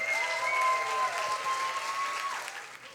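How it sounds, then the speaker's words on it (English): An audience at a science slam event applauds steadily, a dense patter of clapping that slowly fades, with a faint tone sounding through it. "now with a warm round of applause"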